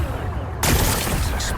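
Rocks blasted apart in the Horizon Forbidden West video game: a sudden loud explosive burst with crackling debris that rumbles on after the initial hit.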